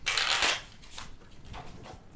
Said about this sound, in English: We shuffled, didn't we?